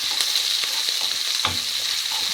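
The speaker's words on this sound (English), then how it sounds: "And it's on sort of low to medium heat. Let those onions cook through" Onions fry in a pan over low to medium heat, giving a loud, close, continuous sizzle broken by the occasional scrape of stirring, with no voices.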